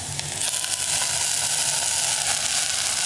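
Gongura sorrel leaves with turmeric sauté in a pan, giving a soft, even sizzle with faint crackles throughout.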